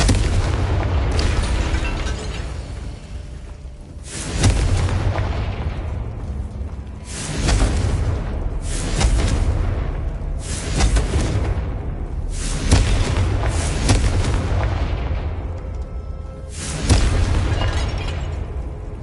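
Explosive Confringo spell blasts in the Hogwarts Legacy video game, a rapid series of loud booming bursts repeating every second or two over a continuous rumbling game soundscape.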